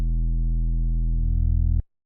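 A distorted sub-bass synth tone made in FM8, run through a distortion operator, holds as one steady deep buzzing note, then turns rougher and pulsing near the end before cutting off abruptly.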